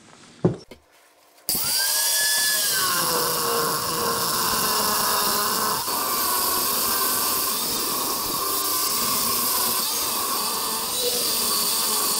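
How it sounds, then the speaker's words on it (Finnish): After a brief clatter, a power saw starts up and cuts through the metal head section of a 40cc engine cylinder continuously for several seconds, a loud steady whine with shifting pitch. "eli ekana mä sahaan tämä kansiosan poistusta."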